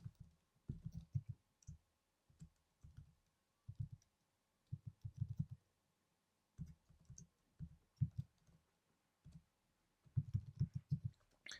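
Quiet computer keyboard typing while writing Swift code, steady bursts of soft close key clicks with short pauses between them.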